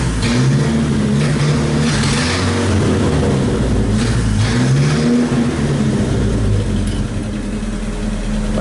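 A Chevrolet Opala's engine revs close by, loud and throaty, rising and falling in repeated pulls over a steady idle rumble, with no talking.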